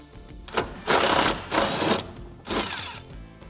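A ratchet with a 1/2-inch socket turns bolts out of a Ford Mustang seat mount, giving three short bursts of rapid clicking close to the microphone with brief pauses between them.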